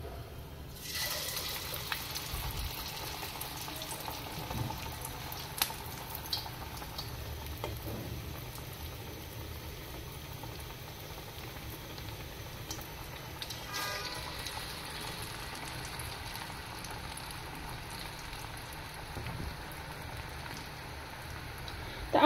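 Lentil fritters (bora) sizzle in hot oil, a soft, continuous crackle and hiss with scattered pops, rising briefly as more batter drops in around the start and midway; no talking.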